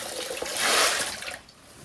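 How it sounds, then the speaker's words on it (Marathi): A brief rush of splashing water swells and fades as sandy seashore shellfish are rinsed in water, close by. "आधी स्वच्छ धुवून घ्यायचे पाण्यामध्ये"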